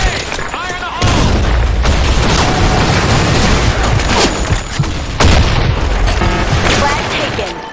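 A grenade explosion in a Battlefield-style shooter match on a sand storm map, a loud booming blast with a sustained roar and scattered gunfire across the whole stretch.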